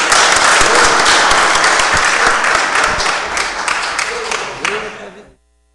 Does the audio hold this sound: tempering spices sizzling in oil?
no